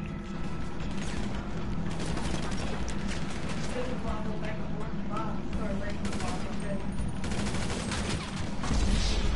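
Gunfire in GTA V, shots fired through walls, rattles as dense, continuous bursts under a steady bed of game noise and voice chat.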